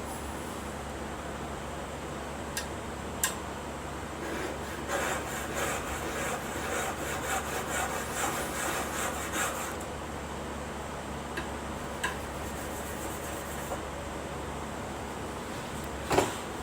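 A chisel is rubbed back and forth across a whetstone or oilstone in a steady scraping rhythm, with a few light taps and clicks, close up and without talk.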